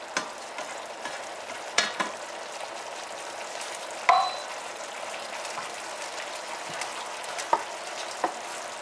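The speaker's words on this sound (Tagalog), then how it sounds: "pakuluin lang tapos luto na yan" Escabeche sauce bubbles in a pan for fish, a low steady simmering hiss with soft pops and a few sharper clinks and crackles scattered through.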